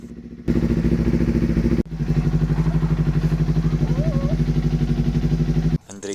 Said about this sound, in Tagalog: Painitin saglit ng motor.